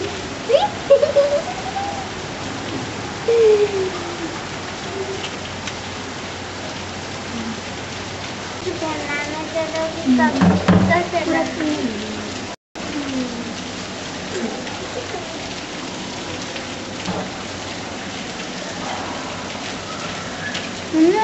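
Steady rain falls outdoors, a continuous hiss of drops on surfaces close by, with a voice and a few other voices speaking briefly over it now and then.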